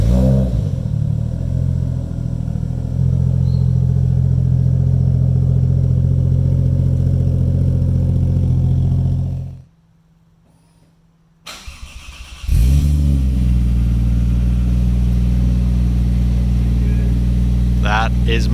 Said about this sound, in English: I'll put a clip up now of how it sounded before.